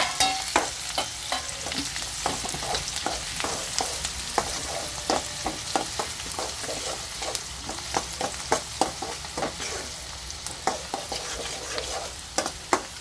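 Chopped onion frying in a pan for North Karnataka red chutney, with a steady close sizzle broken by frequent sharp clicks and scrapes of stirring throughout, no voices.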